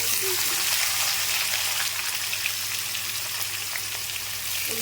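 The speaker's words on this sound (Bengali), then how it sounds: "এরপর পেঁয়াজের বেরাস্তাগুলো একটু ভেজে নেব।" Sliced onions frying in oil with ghee in a pan, a soft, steady crackle and light spattering heard close by, with faint background hum and no voices.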